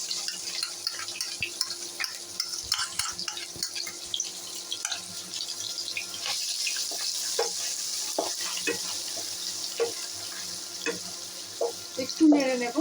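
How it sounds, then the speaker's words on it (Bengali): Ground onion paste cooks on low heat in a pan with tempering spices for Bengali aloo dum, giving a steady soft sizzle broken by scattered crackles and stirring scrapes, close by and without talk. "আঁচ কমিয়ে এর মধ্যে আমি পেঁয়াজ বাটাগুলো সম্পূর্ণ দিয়ে দেব"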